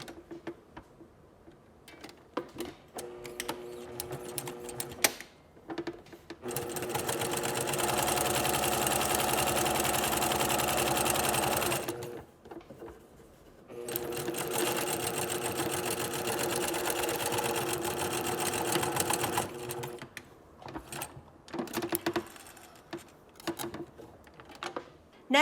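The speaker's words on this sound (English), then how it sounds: "We'll be sewing with 1/2 inch seam allowance," Sewing machine stitching a seam with half-inch allowance and backstitching: two long steady runs of fast motor whir with ticking needle, separated by a brief pause, with handling clicks and rustles of fabric before and after.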